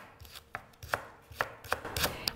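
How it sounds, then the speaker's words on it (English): A knife chops through leeks laid face down on a cutting board, sharp distinct strokes coming in an uneven steady rhythm, about eight cuts close up with no voices. "We'll just slice them face down."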